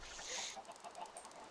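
Chickens cluck briefly in the Minecraft video game, a short burst of soft clucks and squawks at moderate distance, with no speech.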